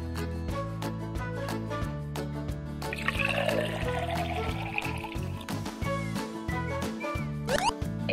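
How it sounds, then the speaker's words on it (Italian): Water is poured into a toy cooking pot at a children's play kitchen, a short trickling pour over steady background music. "Aggiungiamo un po' d'acqua."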